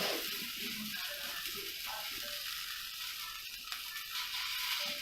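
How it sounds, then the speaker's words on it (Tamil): Okra (lady's finger) with masala sautéing in a pan on a low simmer, a soft, steady sizzle with occasional faint stirring scrapes. "சிம்மர்லேயே வச்சு நம்ம நல்லா வதக்கணும்."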